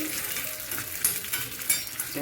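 Chana dal frying in coconut oil with crushed green chilli, a steady close sizzle with a few soft scraping stirs and light clinks of a spoon against the pan.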